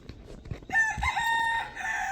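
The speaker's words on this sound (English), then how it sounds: "Alright, so we got roosters." A rooster crows nearby, a loud drawn-out cock-a-doodle-doo lasting over a second, following a few soft thumps and clucks, with no talking.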